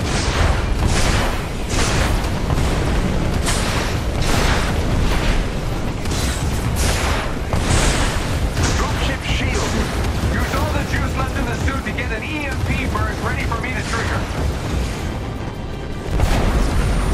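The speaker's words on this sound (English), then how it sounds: "The artillery's targeting you. Incoming." Artillery shells pound down in Marvel's Avengers, a relentless run of heavy booms and crashing blasts layered thick and loud throughout, with voices speaking over the barrage.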